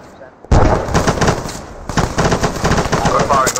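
Gunfire in ArmA 3: a sudden loud burst of rapid automatic fire followed by continuing rattling volleys and scattered shots, close and dense, with brief voices amid the shooting.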